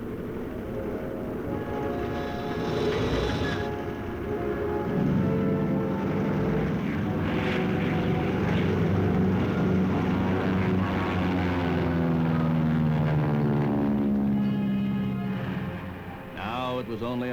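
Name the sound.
WWII propeller fighter aircraft flying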